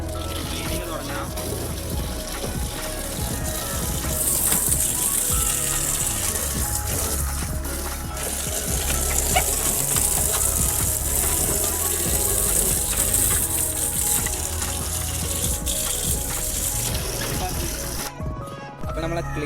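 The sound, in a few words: water running while cleaning a fridge aquarium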